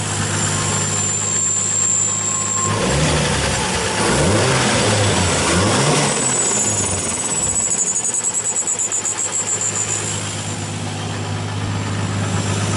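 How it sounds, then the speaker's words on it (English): A 1JZ engine with a blown Mamba turbo, running rich, idles roughly and then revs in repeated loud, rising and falling bursts close by, with no talking. "Sounds like the turbo's taking a shit."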